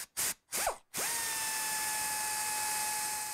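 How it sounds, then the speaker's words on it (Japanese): Belt sander grinding a section of a Kawasaki Ninja GPZ900R motorcycle frame: a few short bursts of the motor spinning up, then a steady high-pitched whine held for a couple of seconds, close and alone. "それをベルトサンダーでちょっと削っていきます。"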